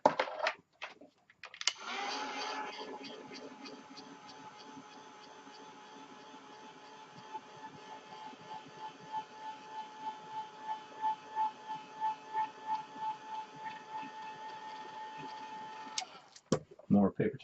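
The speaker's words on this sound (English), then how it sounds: "Hit it with the heat gun." A heat gun blows on a mixed media shadowbox canvas, a steady whirring drone running for about fifteen seconds, pulsing rhythmically in its second half, with clicks as it switches on and off.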